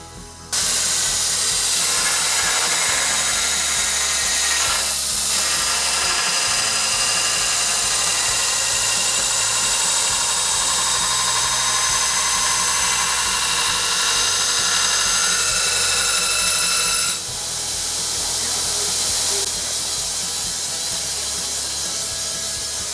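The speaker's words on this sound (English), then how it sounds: "So the next thing to do is then grind it using this belt sander" A belt sander grinding a santoku knife blade with a coarse grit belt gives a continuous loud hissing, rasping roar that holds steady for over twenty seconds, shifting slightly in tone partway through.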